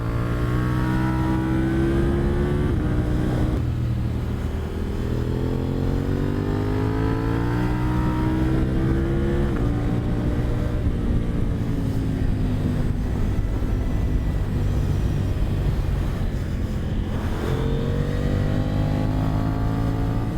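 Motorcycle with more torque ridden hard around a race track on Bridgestone Battlax S23 road tires, a loud continuous engine drone rising and falling in pitch through gear changes for the whole stretch, no talk.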